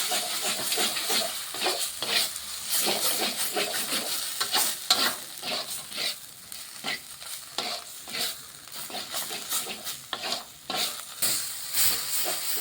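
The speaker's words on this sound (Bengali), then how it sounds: "এই চিনিটা দিয়ে আমি একটু মিশিয়ে নিচ্ছি" Sugar being stirred into a cooking paste of leaves in a pan, with steady scraping strokes and a soft sizzling hiss repeating in a brisk rhythm, close and moderately loud, with no talking.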